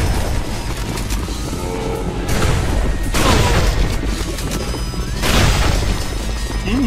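A shotgun firing at zombies in a video game: several heavy booming blasts, each followed by a crashing decay, spaced a couple of seconds apart over a dense, loud backdrop of game noise.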